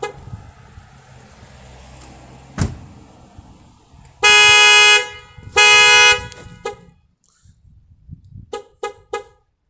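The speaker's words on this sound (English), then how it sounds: "I closed the door and then you heard it trigger again. So that was the impact sensor." A sharp door thud, then a Honda S2000 tilt-sensor alarm set off again by its impact sensor. It gives two loud horn blasts about a second apart, then a few short, fainter chirps near the end.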